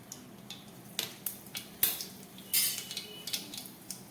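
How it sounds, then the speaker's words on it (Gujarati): Mustard seeds tossed into hot oil in a kadai for tempering while making patra, heard as a series of sharp, faint clinks and pops with brief bursts of crackle spaced through the quiet. "તેલ ગરમ થાય એટલે આપણે તેમાં રાઈ નાખી દઈએ."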